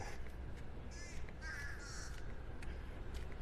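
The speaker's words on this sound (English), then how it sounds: "The blackbirds cawing." Several blackbirds caw in short bursts, fairly faint and somewhat distant, over a steady background hiss, by beachfront condos in North Naples, Florida.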